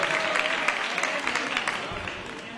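Audience applause at a geology olympiad prize ceremony in Badajoz, Spain: steady, dense clapping from a crowd filling the room for a couple of seconds without a break.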